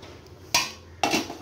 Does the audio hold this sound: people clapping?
no